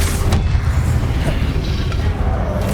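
In Hogwarts Legacy, a Confringo blasting spell erupts in booming explosions amid the constant roar of spellcasting combat.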